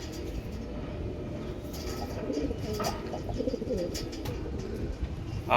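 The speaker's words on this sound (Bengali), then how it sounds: "আজকে আপনাদের একজোড়া কালো পায়রা শখ করাচ্ছি। পায়রা দেখুন" Black Andhra pigeons giving soft, low cooing calls in irregular bursts, close and moderately quiet over a constant hiss, with no voices.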